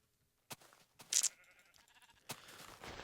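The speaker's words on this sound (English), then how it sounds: "sheep, I can get my wool." Sheep bleating in the video game Minecraft: a short synthetic bleat stands out between a few soft clicks and thumps from the game, heard alone at low volume.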